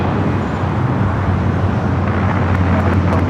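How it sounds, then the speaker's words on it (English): A United Airlines A321neo jet takes off at an airport, heard as a steady, loud, broad engine roar that holds without a break. "Another United A321neo now taking off."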